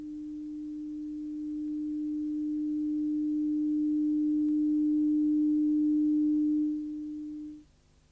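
A single steady pure tone from a hearing test plays alone for about seven seconds, swelling gently in loudness before cutting off.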